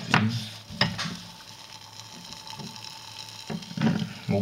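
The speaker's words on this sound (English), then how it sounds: "All bubbling away. All that hydrogen's coming up." Aluminium reacting in sodium hydroxide solution, bubbling and fizzing steadily as hydrogen comes off, close up, with a few louder clinks or stirring knocks breaking the constant sizzle.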